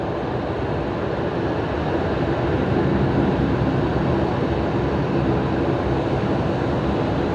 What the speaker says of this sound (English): I can hear some props, but I can't see them.